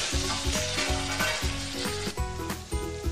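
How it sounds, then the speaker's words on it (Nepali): Paneer masala frying in a pan, unfried paneer cubes sizzling steadily in hot oil and spices, a close, continuous crackle with brief stirring scrapes and clinks layered over it. "यसमा यो पनिर मिसाइसकेपछि अब यसलाई मजाले पकाउनुपर्छ"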